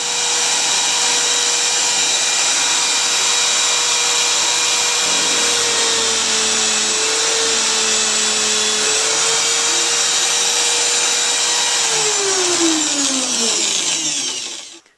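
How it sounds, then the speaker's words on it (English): A power tool countersinks holes in wooden doll arms, legs and body made from salvaged barn beam, giving a loud, steady high whine that holds for about twelve seconds before spinning down and dropping in pitch at the end. "now comes the process of countersinking the holes"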